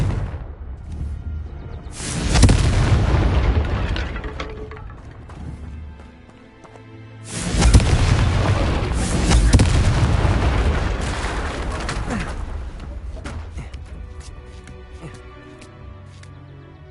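Two loud, broadband fiery blasts from the Confringo blasting curse in the Hogwarts Legacy video game, the first around two seconds in and the second near seven seconds, each with a long rumbling decay.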